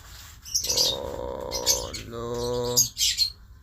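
Several birds chirp and tweet loudly nearby at feeding time, with sharp repeated calls and a brief flutter of wings among them.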